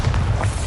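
A spell explosion from the Hogwarts Legacy video game, a loud, dense boom with a rumbling low end filling the whole brief moment.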